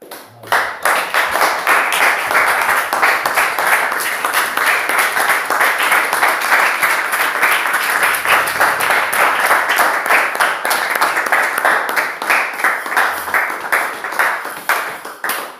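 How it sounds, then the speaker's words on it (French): Congregation in Brazzaville applauding at a prophetic church gathering, a loud, dense wash of many hands clapping steadily for the full length without a break. "que le peuple de Brazzaville célèbre Dieu par leur applaudissement"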